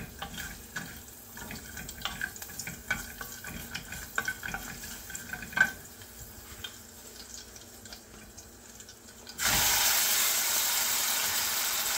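Raw banana pieces go into a tempering in a pan, giving scattered clinks and stirring, then a loud, steady sizzle near the end.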